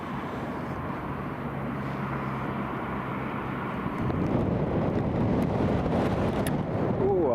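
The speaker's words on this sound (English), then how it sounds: "that gust of wind just nearly blew me over" Wind gusts buffet the microphone on an exposed apron at Newcastle International Airport, with a low rumble from aircraft in the background. The roar thickens and grows louder about halfway through, then stays heavy to the end.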